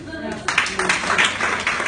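An audience claps for three women honoured at an event on African women and leadership. The applause swells about halfway through as a steady, dense patter, with a voice talking over it.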